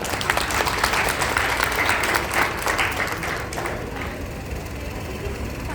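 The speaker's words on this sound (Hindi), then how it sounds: "इसमें एक बार और ताली बजाइए" An audience at a Sanskrit conference applauds, a loud continuous crowd clapping that thins out after about four seconds into a lingering hum of the hall.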